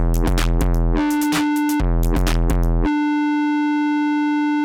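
Feedback from the Roar effect in Ableton Live rings on after rapid, bright, buzzy synth stabs stop, leaving a steady electronic tone that keeps sounding at an even level.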